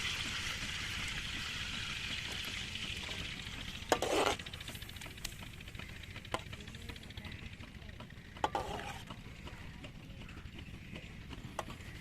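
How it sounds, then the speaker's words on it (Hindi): Masala-marinated chicken fries in a pan with a steady, close sizzle, broken by a few sharp clinks and scrapes as it is stirred. "चिकन जिसको मैंने मसाला लगाया है शामिल कर लेंगे।"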